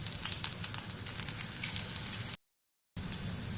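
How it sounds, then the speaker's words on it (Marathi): Green chillies and garlic sizzle and fry in a hot pan, a steady close crackle broken by a brief silent gap before the sizzling resumes. "हिरवी मिरची टाकते, आणखी लसूण छान परतून घ्यायचे आपल्याला"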